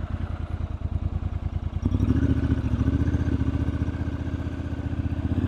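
A Triumph Scrambler 1200 motorcycle engine runs close up with a steady, throbbing beat that gets louder and fuller partway through as the bike swings around.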